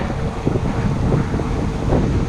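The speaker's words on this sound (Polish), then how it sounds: "Wyjechałem tutaj wiatr wieje" Wind blowing steadily across an open outdoor road during a solo bicycle trip, loud and continuous as it buffets the microphone, with a deep rumbling low end and no voices.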